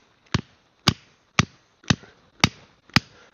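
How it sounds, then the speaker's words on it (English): A hammer drives a metal stake into the ground on a farm. Six sharp, evenly spaced strikes ring out close and loud with a metallic ring, about half a second apart, and no talking. "I will hammer that thing in the ground"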